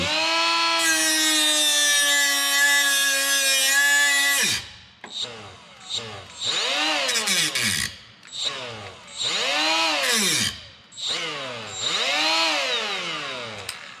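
A Makita cordless power tool with a failing battery whines steadily and loudly at first, then cuts out into a run of short, uneven bursts that rise and fall in pitch as the motor stutters.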